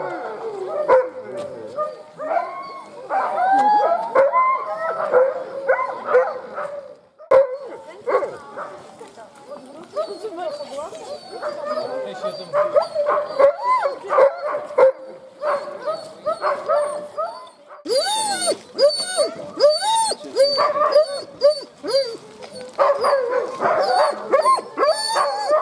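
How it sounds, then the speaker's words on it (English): Many sled dogs bark, yip and whimper excitedly at a kennel demonstration in Denali, Alaska, a busy overlapping chorus at moderate distance, with people talking in between. "The barking you hear would be sled dogs."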